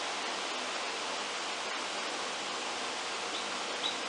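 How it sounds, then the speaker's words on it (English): A spray gun hisses steadily as it coats chair legs with stain, a continuous, even airy spray held close and fairly faint throughout with no pauses. "And that's the color we're spraying on right there."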